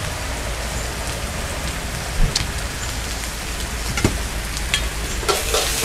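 Steady rain hissing continuously at a Thai fried-rice shop, with a few faint taps and clinks scattered on top; no voices.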